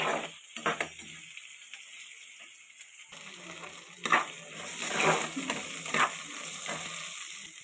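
Potatoes sauté in a hot pan while a spoon stirs them, giving a steady close sizzle broken by scraping strokes against the pan, with no voices.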